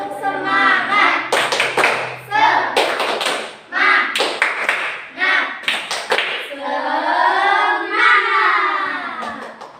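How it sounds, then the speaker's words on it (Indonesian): A primary-school class claps the rhythmic spirit clap together in a classroom, with bursts of sharp unison claps between chanted group voices, close and loud. "Tepuk semangat."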